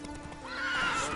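Roach, a horse in a video game, gives a short whinny with hoof clops, close and clear, over a faint game background.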